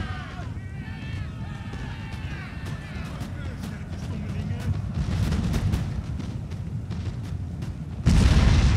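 An artillery battery firing in Napoleon: Total War as a low, rumbling roll of distant booms beneath steady talking, ending in a sudden louder blast.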